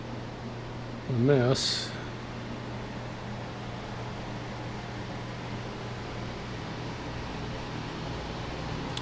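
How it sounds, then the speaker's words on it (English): A drying blower fan and a dehumidifier run together after a refrigerator leak, giving a steady broadband whoosh with a low constant hum throughout, briefly interrupted early by a short voice. "One blower and one dehumidifier."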